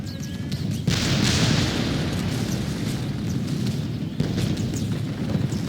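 Artillery fire in the video game Medieval II: Total War with a pike-and-shot mod, a sudden heavy boom followed by rumbling battlefield noise and a second sharper blast near the end, no talking.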